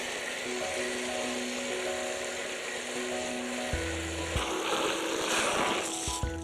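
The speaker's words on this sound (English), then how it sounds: "So I'm gonna start washing other pieces now in here." Running water splashes over plastic pieces from a hamster cage, including a styrofoam part, as they are washed in a sink, a continuous close wash of hiss with hollow clunks and shifting tones as the pieces are moved.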